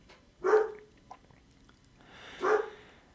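A dog gives two separate barks about two seconds apart, each short and moderately loud and fairly close, with quiet in between and no talking.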